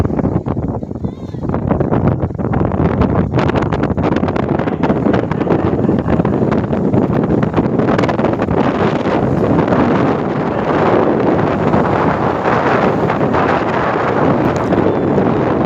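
Strong sea wind buffeting the microphone at Old Digha beach, a loud continuous roar filling the whole stretch with waves faintly mixed beneath, steady throughout with no clear pauses.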